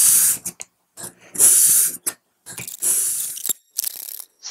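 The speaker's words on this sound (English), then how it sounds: "I did need to hit it with the lower grit sandpaper on the marble slab just to get it to a point where I could get it sharp" Sargent No. 400 series hand plane blade scrubbed on low grit sandpaper over a marble slab, giving close, loud bursts of harsh scraping hiss separated by short pauses, with no voices.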